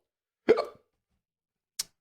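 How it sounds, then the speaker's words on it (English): A single sharp hiccup from a person, a short throaty gulp heard close up in a quiet room, followed a moment later by a faint, brief click. "this is a hiccup"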